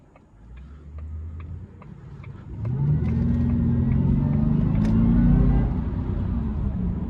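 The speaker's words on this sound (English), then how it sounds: "That Supercharger sounds damn good." A supercharged 2006 Jaguar XKR heard from inside the cabin, first rumbling low with a faint turn-signal tick, then building into a loud, rising engine note and whine as it accelerates hard.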